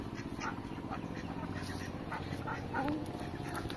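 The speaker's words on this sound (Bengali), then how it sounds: "তো এই যে দেখো এদিকেও আছে রাজহাঁস।" Ducks and geese in a remote Sundarbans village give a few quacking, honking calls over a busy outdoor background, with faint human voices mixed in.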